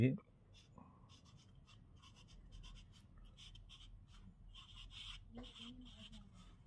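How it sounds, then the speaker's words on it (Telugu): A pen writes by hand on paper at close range, with soft scratchy strokes in short bursts while a voice talks quietly over it. "థ్యాంక్ యూ యూనివర్స్ అని రాయండి"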